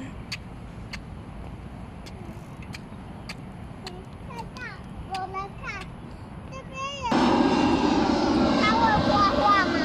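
An aerobatic display airplane flies low overhead, its engine drone rising sharply to a loud steady roar partway through, while children and adults talk nearby.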